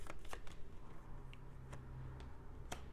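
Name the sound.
shuffling cards for a tarot reading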